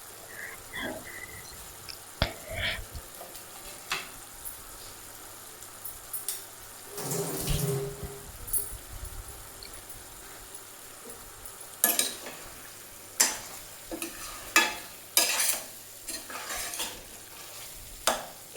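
Salt, turmeric, chili powder, cumin powder and coriander powder fry quietly in a pan, with a faint low sizzle and scattered scraping clicks of stirring that sharpen into several distinct strokes near the end; no one speaks.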